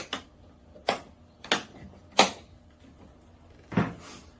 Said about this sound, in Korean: 그 다음에 문을 닫으시고